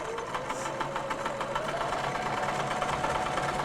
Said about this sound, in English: Lower the pressure foot and again lower your needle and hold on to the threads as you start to sew.